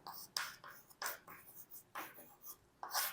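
Chalk or marker strokes on a classroom board during a Class 10 chemistry lesson, a series of short scratchy writing bursts in quick irregular rhythm, close and fairly quiet.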